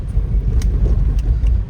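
A car arriving at a school gate in the rain, its engine a close, steady low rumble with faint wet road noise and a few small clicks and knocks, no voices heard.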